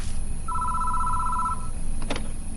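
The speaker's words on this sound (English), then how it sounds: "We can hear a phone ring inside the station before it stops." A telephone rings inside a station in the video game Spirit Hunter NG, a single steady electronic trill lasting about a second, followed by a short click over a constant low background hum.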